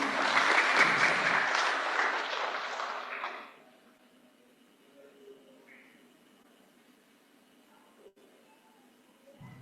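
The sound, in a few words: audience applause for photo contest winners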